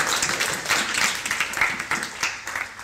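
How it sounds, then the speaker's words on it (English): Applause from a small audience at a Buddhist talk, a steady patter of clapping with some uneven swells, fairly close and alone without talk. "Give her a round of applause."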